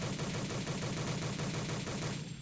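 A 13mm autocannon fires in steady, evenly spaced rounds in Men of War: Assault Squad 2, a rhythmic chain of faint shots that ends near the close.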